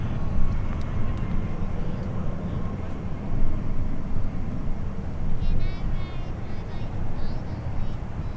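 A distant airplane at Long Beach Airport rumbles as a steady broadband roar throughout, fairly loud and continuous, with faint higher tones drifting above it.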